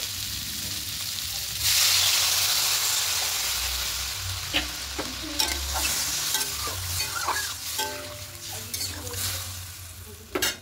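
Ginger, garlic, chili paste and ground spices sizzling and being stirred in a pan for a fish curry, a loud hiss as water is poured in, then steady frying with spoon scrapes and light clinks.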